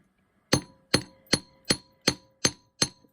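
A hammer strikes metal while keum boo earrings are worked, seven sharp, evenly spaced ringing taps at close range with short decays and no talking.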